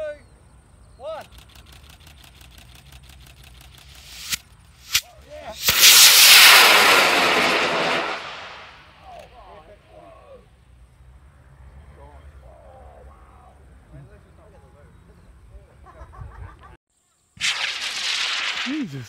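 An amateur rocket launches at a New Zealand member launch day, a loud sudden roar swelling for a few seconds then fading into distant rumble, with sharp cracks and voices around it.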